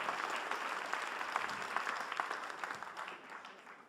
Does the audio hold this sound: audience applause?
yes